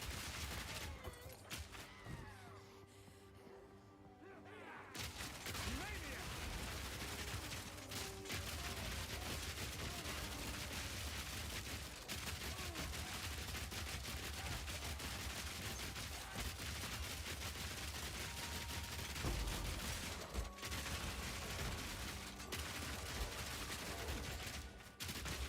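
Rapid, repeated crossbow fire in the Path of Exile 2 video game, a dense, continuous barrage of sharp shots loud against game effects, with a short lull near the start and another around the twentieth second.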